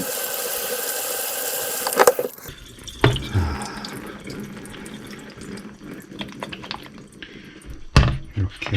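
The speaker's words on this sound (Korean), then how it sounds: "이렇게 해서 오늘 3번째 물을 주고 있습니다." Water runs steadily from a tap onto soybean sprouts being grown at home, a continuous hiss broken by clunks and drips as the flow stops and restarts.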